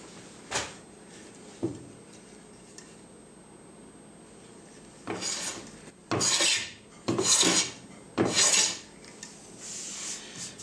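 A GROZ hand plane shaves wood as a smoother on a test run, giving several crisp, rasping strokes in close succession, loudest toward the end, with a few faint taps before them.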